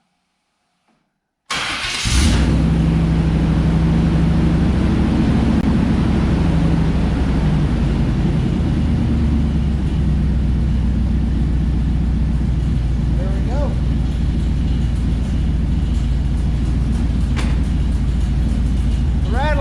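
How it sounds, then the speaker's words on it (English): A 1996 Chevrolet OBS Z71 truck engine with a massive exhaust leak cranks and fires, then runs loudly and roughly with a heavy, rattling, puffing exhaust, steady for a long stretch. "You're hearing is going to be a massive exhaust leak."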